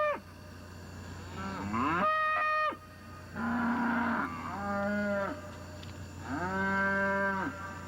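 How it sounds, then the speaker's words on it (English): Restless cattle on a family farm near Ponchatoula low repeatedly, five or so drawn-out moos in sequence, close and loud, separated by short quiet gaps over a faint steady hum. "the cattle belonging to the Rose Allen family near Ponchatoula are restless"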